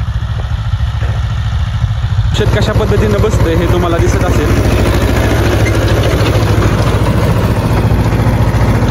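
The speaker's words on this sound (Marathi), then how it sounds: "तुम्हाला दिसत असेल ट्रॅक्टर आला आता आपला." A tractor engine runs steadily in a chickpea field while a blower sprayer works. It gives a loud, continuous low throb that grows denser after the first couple of seconds, with someone talking over it.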